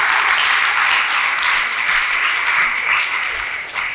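An audience gives a warm, sustained round of applause for a speaker, steady dense clapping that gently tapers at the end.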